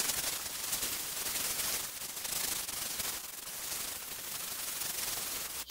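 Resin artwork being sanded by hand with 80 grit sandpaper, a steady, continuous scratchy rubbing in long back-and-forth strokes, close and fairly loud with no talking.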